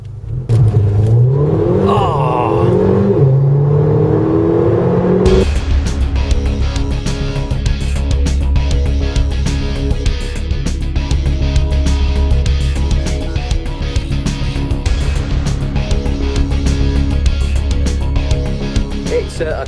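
A Mercedes A45 AMG launches hard under launch control, its engine roaring loudly and revving up in a sustained, close surge after a brief quieter moment with a voice.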